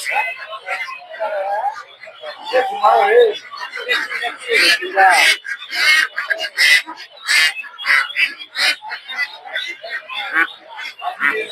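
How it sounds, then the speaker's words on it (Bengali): Native ducks at a busy market, a flurry of close, loud quacks and squawks in irregular bursts, mixed with poultry noise and people talking nearby. "এগুলো সব হচ্ছে দেশি হাঁস"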